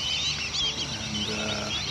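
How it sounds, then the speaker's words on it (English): Constant high, thin whistling calls from a flock of black-bellied whistling ducks in a wetland, overlapping continuously at a moderate distance over a steady background. "a lot of black-bellied whistling ducks. You can hear them in the background."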